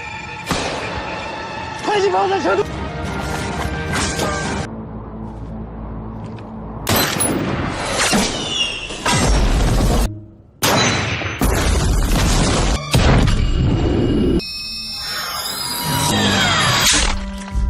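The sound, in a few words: bomb explosion in an action film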